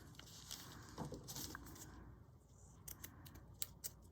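Ribbon is trimmed with scissors for the cover of a handmade envelope-stack file folder journal: several crisp, close snips and rustles at an uneven rhythm, with no talking.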